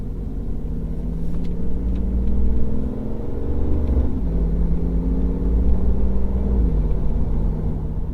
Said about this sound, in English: I'm going through a traffic circle and then I'm going to accelerate.